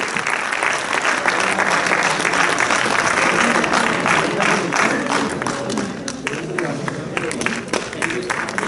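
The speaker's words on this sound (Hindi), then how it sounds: "आपकी तालियां हैं" An audience at an Urdu stage drama claps loudly and steadily, a dense burst of applause that gradually thins and tapers toward the end.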